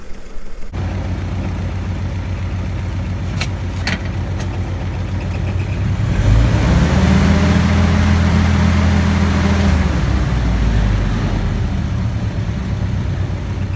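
A Willys Jeep engine idles smoothly, a steady mid-pitched rumble close by, then swells louder for a few seconds before settling back to an even idle, with no voices.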